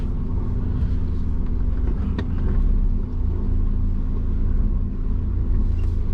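A twin-turbo Subaru cruises on light throttle through suburban streets, a steady low engine rumble and road drone heard from inside, with a brief click near the middle and a slight dip in level around three seconds.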